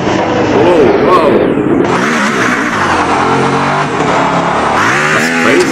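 A car engine revs loudly and continuously while being driven in the Roblox video game, its pitch sweeping up and down through repeated accelerations, with a player speaking over it.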